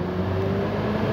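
A car stuck in deep floodwater in a parking area in Dubai revs its engine loudly and steadily up close, straining as it rocks back and forth and cannot get free.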